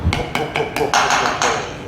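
A hammer taps a greased front wheel hub bearing into place on a BMW R1200GS motorcycle, with about six sharp metallic strikes close by at a quick, uneven rhythm.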